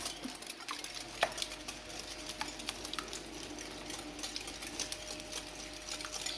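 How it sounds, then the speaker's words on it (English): Whisking sugar into a bread pudding mixture in a bowl: a steady, fast clatter of the whisk against the bowl with small, sharp ticks and a light wet swish, continuous and close, with no talking. "now I'll be adding my sugar. Whisk away again."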